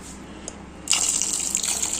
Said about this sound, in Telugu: ఇవి కొంచెం మునిగేంత వరకు వాటర్ పోసుకోవాలి.